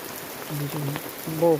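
Heavy rain on a farm soaks a tractor, a constant hiss of falling drops under a person talking briefly nearby.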